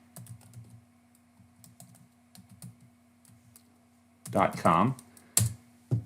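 Light clicking of keys on a computer keyboard runs under a man's quiet speech, with a louder burst of talk near the end.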